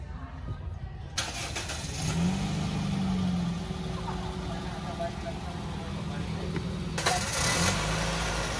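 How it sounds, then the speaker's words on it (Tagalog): A car engine cranks and catches after a second of quiet, then settles into a steady idle with a slight rev; close, with another brief burst of engine noise late on. "kailangan pandarin muna natin ang sasakyan bago natin i-check."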